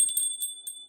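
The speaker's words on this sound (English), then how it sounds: "Let's ring the bell." A bell rung during a calm guided talk about self-mastery, giving a few clear, high, sustained ringing tones that sound close and bright, with nobody speaking over them.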